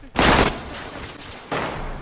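Two gunshot bursts sound in a video game, a sharp loud blast near the start followed by a second burst just over a second later, each trailing off quickly.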